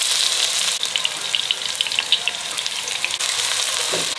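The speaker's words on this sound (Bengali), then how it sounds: "পেঁয়াজ আদা রসুন কষানো হয়ে গেছে।" Onion, ginger and garlic fry in a pan for meat biryani, giving a continuous bright sizzle with a few soft stirring knocks, close and fairly loud with no talking.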